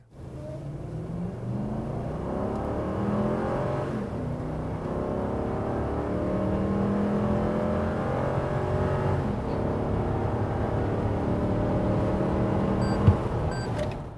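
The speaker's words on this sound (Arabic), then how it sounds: "نحن حنختبر الان تسارع امامكم ونشوف كم حتجيب السياره تسارع من صفر ل 100" A 2020 Toyota Land Cruiser GXR with its 4.6-litre engine accelerates hard from a standstill to 100 km/h, a loud, steady engine roar rising through the gears with brief shift dips, heard alone without talk.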